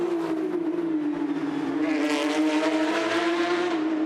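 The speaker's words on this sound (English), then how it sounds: "Chusky just again gets on the throttle in the middle of that short straight between 9, 10 and 11" A Porsche Carrera Cup race car at the 2022 Toronto round accelerates on throttle along a short straight, its engine note climbing steadily and loud, with a broad rushing swell as it passes.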